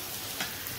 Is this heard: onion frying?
yes